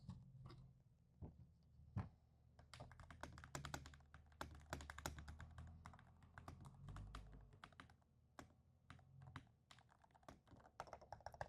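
Typing on a MonsGeek FUN60 Pro magnetic Hall-effect switch keyboard, a quiet close-up run of soft, rapid keystroke taps in irregular bursts with brief pauses, no talk.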